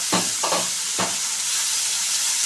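Chopped tomatoes being stirred in a pan while making ridge gourd fry: a few soft spoon scrapes over a steady, even sizzling hiss.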